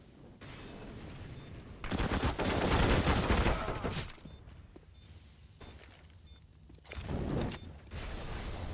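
Gunfire from Mac 10s in a Counter-Strike match on the map Train; rapid automatic bursts in two loud clusters separated by quieter background game noise and mechanical clicks.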